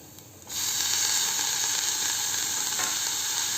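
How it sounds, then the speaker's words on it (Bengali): Mustard greens hit a hot pan and break into a loud, steady sizzle that begins abruptly and keeps hissing without pause. "চলুন আস্তে আস্তে এবার এই যে রেডি করে রাখা শাকটা দিয়ে দিই।"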